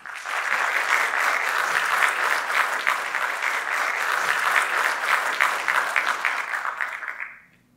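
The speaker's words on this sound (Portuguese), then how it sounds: "Vamos recebê-la com uma salva de palmas." Sustained audience applause at a franchise forum in Curitiba, steady and dense for about seven seconds before fading out quickly at the end.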